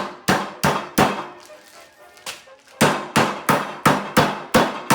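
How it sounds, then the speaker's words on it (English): Repeated sharp, flat thuds strike at a steady pace with a brief pause in the middle, close and loud, as meat is pounded thin for Wiener schnitzel. "So we're going to pound these out"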